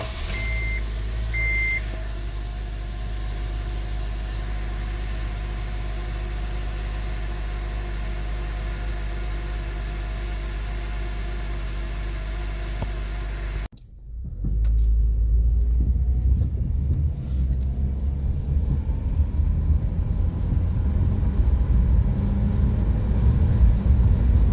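A 2005 Honda Element with 221,703 miles driving on a road test, a steady low engine and road rumble that cuts out briefly midway, then returns louder with rising drivetrain drone and wind noise.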